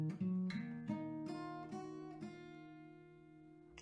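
An acoustic guitar plays the outro of a song with a few picked notes close up, then a final chord left to ring and fade, quiet with no voices.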